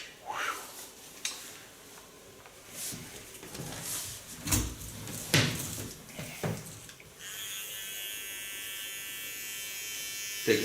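A small hair clipper runs on and off while trimming the hair contour, with short bursts of buzzing and handling, then a steady, close motor hum in the final seconds.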